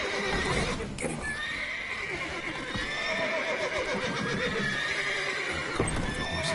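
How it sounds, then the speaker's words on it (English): Horses whinny and neigh repeatedly amid clip-clopping hooves and ambient game sounds in The Witcher 3, loud and close throughout. "Call off the horses before they wake the guards."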